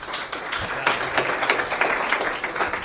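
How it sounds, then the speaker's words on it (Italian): An audience claps for a guest named Giorgio during a live Italian comedy podcast taping, with steady applause throughout, fairly close and sustained with no speech over it. "Un applauso a Giorgio intanto che."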